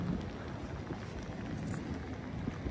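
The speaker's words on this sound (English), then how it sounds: "Rain's back." Steady rain falls on a storm-damaged beach, a dense, even hiss of drops holding at one level throughout with no talking.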